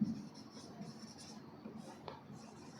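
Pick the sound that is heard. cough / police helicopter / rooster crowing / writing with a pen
writing with a pen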